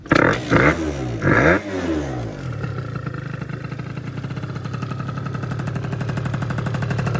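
An Athena Racing 70cc booster scooter engine fires up with a few loud blips of the throttle, then settles into a buzzing, rattly two-stroke idle that climbs slowly, close and without talk.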